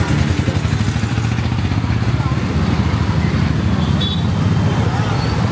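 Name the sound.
rush hour road traffic in Pondicherry, India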